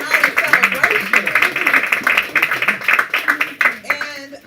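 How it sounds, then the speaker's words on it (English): Hand claps for Tamara Steele at a celebration, with a steady patter of applause from a gathered crowd that fades after a few seconds, mixed with cheering and voices. "Yes, give her some hand claps."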